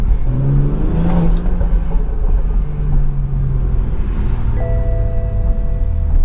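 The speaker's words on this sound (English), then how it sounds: "for this being a stock turbo, it really whines, bro" A stock-turbo BMW 340i with the B58 engine, heard from inside as a loud, continuous low engine rumble with a rising and then shifting high whine, steady throughout.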